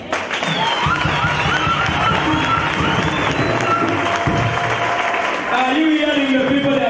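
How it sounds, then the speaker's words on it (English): A crowd cheers, claps and calls out happily at a gathering, a steady, loud mass of voices and applause continuing throughout, with one voice speaking over it. "Are you hearing the people that are cheering and they're happy?"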